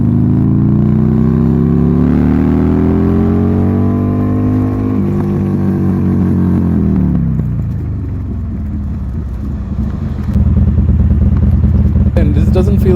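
Buell Lightning XB12S motorcycle engine pulling hard while riding, a loud rising growl that climbs steadily, then drops off as the throttle closes and settles into a rougher, lower rumble near the end.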